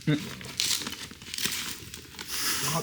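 Crinkly plastic packaging around motorcycle crash bars for a 2024 Suzuki V-Strom 800DE being pulled open, close bursts of crumpling and rustling with someone talking over it.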